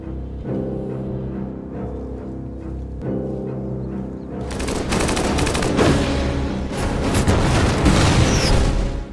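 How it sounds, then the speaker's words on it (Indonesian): German SS troops open fire in a World War II film battle. Low music gives way to dense, loud bursts of automatic gunfire and booming shots that continue without a break, with no voices. "pasukan Amerika seketika diserang oleh senjata-senjata pasukan elit Jerman"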